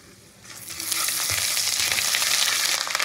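Ginger paste and spices for basanti polao hit hot oil in a pan, a quick rise into a loud, crackling sizzle that holds steady at close range.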